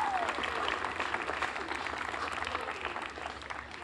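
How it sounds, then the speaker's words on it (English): A crowd at a United Way Day of Caring community event applauds its sponsors, with dense, steady clapping that fills the whole stretch without a break, fairly loud and close. "So a big round of applause for our sponsors."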